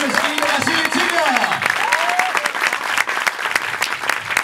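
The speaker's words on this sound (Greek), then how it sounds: "θέλω να δώσετε ένα πολύ δυνατό χειροκρότημα" Theatre audience at a stand-up comedy show clapping loudly and continuously, dense sustained applause with crowd noise filling the whole stretch.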